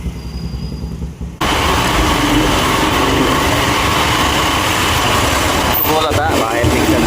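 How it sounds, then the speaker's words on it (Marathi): A motorbike engine runs steadily at close range as riders set off from a hotel in Mahabaleshwar, a continuous broadband drone after a quieter opening second, with brief higher sounds near the end. "ही आपली बाईक आहे आणि आपण आता इथनं निघतो आहे"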